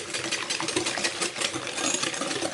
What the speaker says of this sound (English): I've whisked this for about a minute or so, so it's nice and foamy